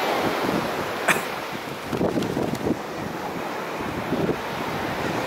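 Sea waves washing in at Tsukuihama beach, a soft continuous surf with gentle swells and wind buffeting the microphone, plus a few faint distant voices.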